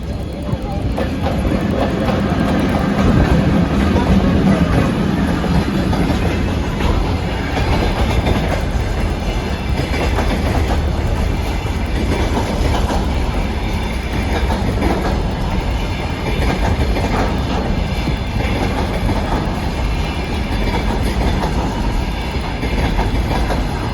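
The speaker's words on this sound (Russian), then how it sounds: "Вот уже едет. Это грузовой поезд." A container freight train rolls past close by in summer, a loud continuous rumble with steady wheel clatter sustained throughout.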